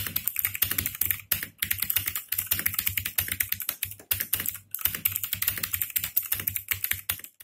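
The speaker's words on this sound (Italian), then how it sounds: "La rumorosità di questa tastiera è molto contenuta." Continuous rapid typing on a Motospeed CK104 mechanical keyboard, dense clicky keystrokes with brief pauses, close and moderately quiet, no voices.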